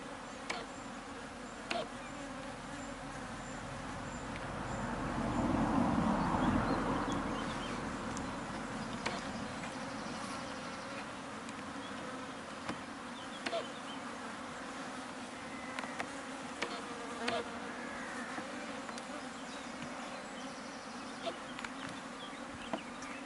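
Honey bees hum steadily and continuously at an open hive during an inspection, a dense close buzzing that swells briefly near the start and then holds level throughout.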